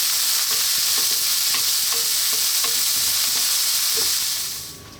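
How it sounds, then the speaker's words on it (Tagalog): Pieces of chicken sizzle steadily in a hot pan for chicken fried rice while a utensil stirs and scrapes them in light rhythmic taps, the frying close and continuous before easing off at the end. "ipapan-fry ko naman yung ating chicken."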